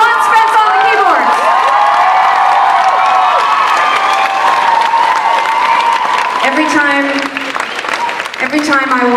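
An audience at a concert claps and cheers for the keyboardist, with a bright sustained burst of applause and whoops; a voice speaks over the crowd and it thins near the end.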